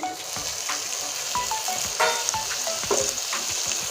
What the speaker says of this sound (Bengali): সুন্দর করে পেঁয়াজটা লাল করে ভেজে নেব